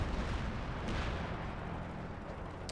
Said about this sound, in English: Fearsome main cannon opening up.